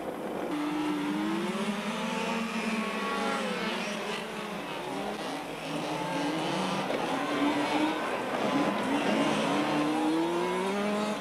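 Small radio-controlled mini buggies race around a club track, a continuous loud buzzing whine of several little motors rising and falling as they corner and run the straight, with faint voices underneath.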